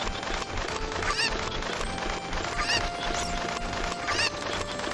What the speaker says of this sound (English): There's something I should do with these cuckoos after I get the bottle from Anju.